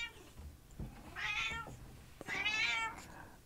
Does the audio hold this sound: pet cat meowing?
yes